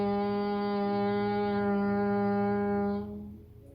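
A sustained, steady nasal hum held for about three seconds during a bee's breath (Bhramari pranayama) exhale in a yoga session, rich and buzzy, then fading out as the breath ends.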